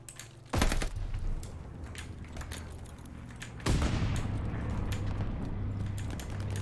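Gunfire and explosions from the first-person shooter game Call of Duty: Vanguard, with two sudden heavy blasts followed by sustained loud battle noise and rapid shots layered over a constant low game rumble.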